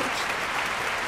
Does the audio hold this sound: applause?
yes